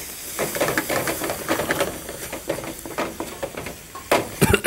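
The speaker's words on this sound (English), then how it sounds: "Now let's saute this for a minute or so." Peas sauté in a hot pan with salt, chili powder and garam masala, giving a continuous close hiss broken by quick stirring scrapes and spitting bursts, no voices.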